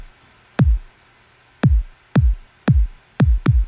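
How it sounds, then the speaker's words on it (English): Two layered kick drum samples sound together as one full, low-heavy kick, struck six times in an uneven beat pattern with a sharp click on top, close and alone. "It's a nice full kick without totally getting in the way like the last one was."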